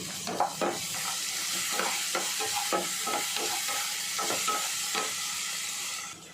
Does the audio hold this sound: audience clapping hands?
no